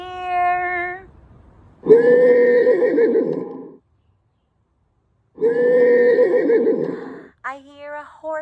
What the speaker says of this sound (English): I hear a horse.